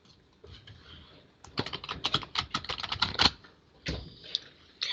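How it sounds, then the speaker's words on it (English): A quick flurry of crisp tarot card riffles and flicks, close and fairly quiet, with a short pause before a final burst of shuffling. "give it a real good shuffle"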